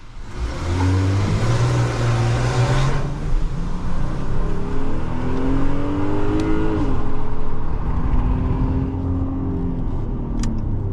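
A 2025 Ram 1500 pickup's V6 engine revs hard toward its 7,000 RPM redline, the loud rising engine note climbing in sweeps and holding high for several seconds without any talk.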